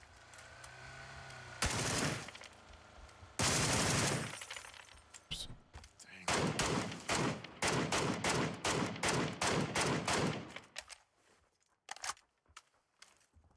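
Gunfire in a PUBG match: a few loud bursts early on, then a long run of evenly spaced sharp, close shots that gradually thin out and fade toward the end.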